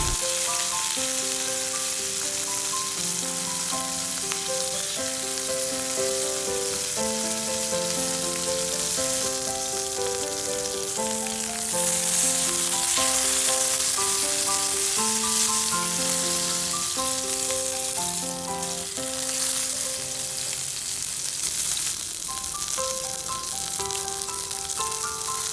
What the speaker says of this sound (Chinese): 最开始我们是需要煎皮的部分啊，并且我们要把它煎脆